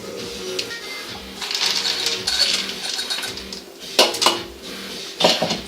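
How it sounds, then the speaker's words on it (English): Spoon stirring chicken and pea risotto in a pan, with repeated metallic scrapes and clinks of utensil against the pan in an irregular rhythm, close and moderately loud, no talking. "let's give that a bit of a stir through"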